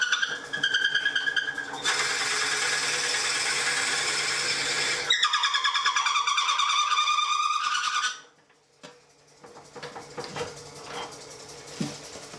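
A power drill bores into a wooden handle in loud, steady bursts of whining motor. The motor changes pitch partway through, then cuts off, leaving faint clicks and handling noises.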